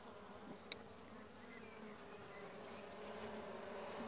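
Honeybees buzz steadily at a weak hive in June, a soft continuous drone with no talk over it.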